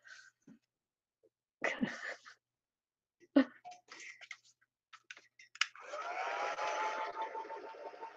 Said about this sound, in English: I thought you were drying your hair, Vicky. Can dry that hair